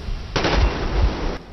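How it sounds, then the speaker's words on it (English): Gunfire and explosions from the video game Metro Exodus burst out in a loud, dense roar lasting about a second, then cut off sharply. "So you can hear all the explosions"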